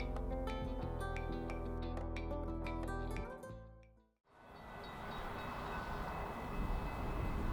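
A Brightline passenger train passes near Barnes Boulevard in Brevard County, Florida, sounding a loud sustained horn chord that cuts off. A broad, rushing roar of wheels and wind follows close by.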